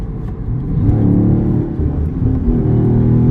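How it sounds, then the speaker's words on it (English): A pickup truck with a 10-speed automatic gears down while its engine revs in a continuous, close, rumbling whir that rises and dips slightly. "This thing's not catching that gear to really gear down"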